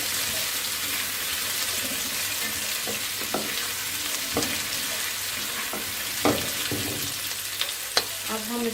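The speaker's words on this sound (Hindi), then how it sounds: "इसको 1 to 2 मिनट जो है हमने वो सौते करना है" Chicken Manchurian ingredients sautéing in a pan, a continuous close sizzle broken by repeated scraping and clinking stirs, with no voices.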